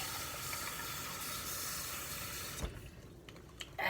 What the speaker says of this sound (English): We fill up with fresh, cold water.